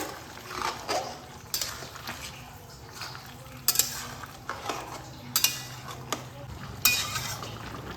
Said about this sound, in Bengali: এটাকে ভালোভাবে মিশিয়ে নেব ডাঁটার সঙ্গে